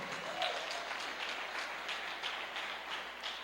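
A church congregation claps together in a broad sustained round of applause with rhythmic accents, moderately quiet, with a brief voice cutting in early on.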